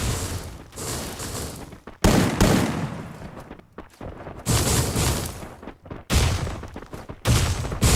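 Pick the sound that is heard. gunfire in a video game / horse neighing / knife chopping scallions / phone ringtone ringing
gunfire in a video game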